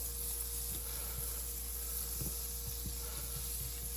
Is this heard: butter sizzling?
yes